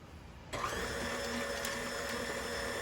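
An electric mixer creaming butter at low to medium speed for cranberry and white chocolate cookie dough switches on after a quiet half second and then hums steadily and evenly, close and moderately loud.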